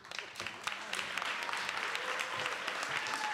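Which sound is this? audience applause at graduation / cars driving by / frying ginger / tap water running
audience applause at graduation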